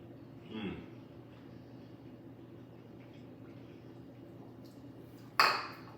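A utensil clinks against a pan while cauliflower and shrimp alfredo is served, two brief metallic knocks, one early and a sharper one near the end, over a quiet room background.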